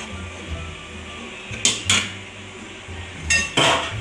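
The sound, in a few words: putting rice cake into a steamer pot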